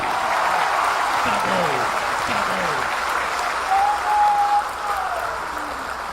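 Audience applause at a Hindi poetry recital, a steady wash of clapping across the whole stretch with faint voices and murmurs mixed in beneath it.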